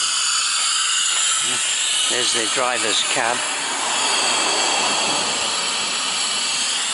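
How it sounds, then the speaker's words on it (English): A little steam engine on the Fairbourne miniature railway gives off a constant loud hiss that fills the scene while someone talks over it nearby. "there it is, a little steam engine"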